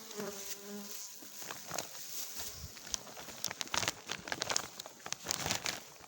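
A honeybee colony in a hive during winter feeding, its buzzing close and rising and falling, mixed with crinkling and rustling handling noises and a few louder bursts toward the end.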